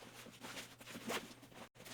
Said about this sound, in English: take the zipper, and the zipper just goes around the whole bag here